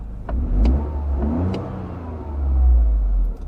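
Toyota GR Corolla engine being driven hard, a loud mid-pitched growl that rises and swells in two surges across a few seconds, with faint clicks and road noise underneath.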